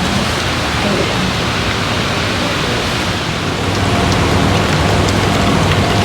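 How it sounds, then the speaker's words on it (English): Decorative water fountains running in a garden store, a loud, constant splashing wash of falling water that stays steady and close throughout. "Up here we have some pretty fountains"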